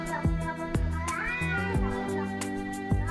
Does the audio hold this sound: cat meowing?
yes